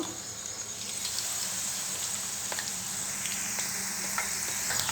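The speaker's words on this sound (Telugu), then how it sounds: "ఈ విధంగా వేయించుకోవాలండి మరీ మాడకూడదు మరీ పచ్చిగా ఉండొద్దు" Okra pieces frying in oil in a pan, a continuous close hiss and sizzle with small crackles scattered through it, no talking.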